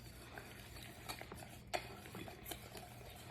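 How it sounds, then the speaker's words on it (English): Flour is whisked into molten lava cake batter in a pot, with quiet rapid whisk strokes and light clicks against the metal, faint and close, including one sharper tap midway. "Whisking."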